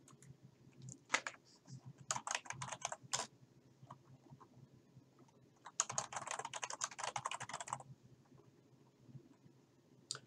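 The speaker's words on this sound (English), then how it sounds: "Type online learning information in the title box." Typing on a computer keyboard, close and clear, in two quick bursts of rapid clicking keystrokes separated by a quiet pause, alone without talk.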